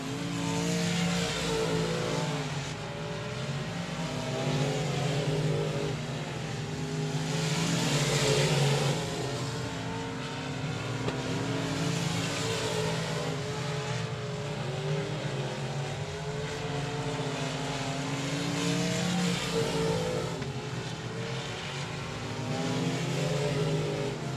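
Race cars roar continuously around a dirt speedway at Texarkana 67 Speedway, engines droning loud and steady with rising and falling swells as the pack passes, no voices over it.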